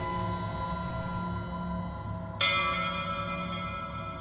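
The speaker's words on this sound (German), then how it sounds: "ich habe gerade die Glocke geläutet" Bell ringing inside the horror game Layers of Fear: a steady, ringing metallic tone with many sustained harmonics, then a sharper, brighter bell strike partway through that swells the resonance and keeps sounding to the end.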